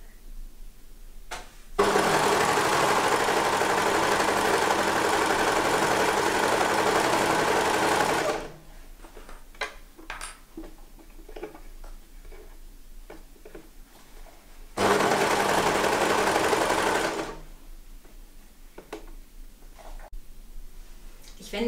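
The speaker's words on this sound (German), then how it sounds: "nun nähen wir die Naht vom Ärmelende bis zur Saumkante in einem durch" A sewing machine runs a long seam on a baby wrap jacket, sleeve end to hem, in two steady whirring bursts, close and loud, with quiet handling noises between.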